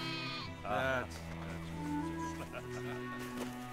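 A sheep bleats once, loud and close, with a wavering cry, while a voice keeps talking before and after it.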